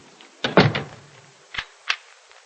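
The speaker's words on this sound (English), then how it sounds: "Must you lock the door?" A door being locked: a close clunk and rattle of the handle and bolt, then two short sharp clicks, with no one speaking.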